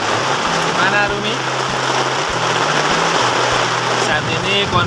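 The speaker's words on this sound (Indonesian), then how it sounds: "Saat ini kondisi hujan." Rain falls at a campsite near a waterfall in Sentul, Bogor, a dense steady hiss throughout, loud and close, with a low droning hum underneath and faint voices mixed in.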